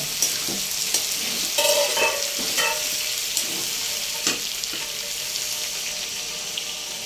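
Chicken curry pieces sizzle in a hot pan while a spoon scrapes and stirs, and gravy is added to the frying meat in a steady, close crackle with sharp stirring clicks.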